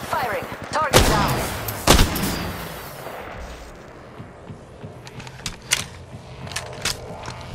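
Gunfire from the Apex Legends Mobile video game, with two sharp, loud shots near the start followed by lighter, scattered pops and game effects.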